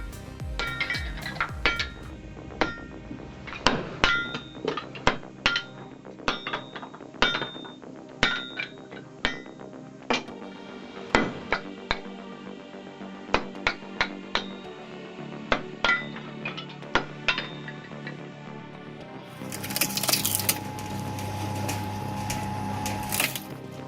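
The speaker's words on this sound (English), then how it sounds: "By using just a sledgehammer, he demonstrated how basic tools and ingenuity can create a surprisingly efficient firewood splitter." Sharp, repeated metallic strikes ring out as a sledgehammer drives firewood through a homemade splitter, irregular clanking hits with bright clinks, ending in a louder burst of rough noise, with no voices.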